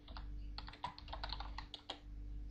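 Commands are typed into the Aardwolf MUD on a computer keyboard: rapid, uneven keystrokes heard up close with no talking.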